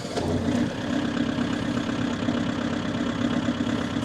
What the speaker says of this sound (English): So now we're gonna crank up the generator.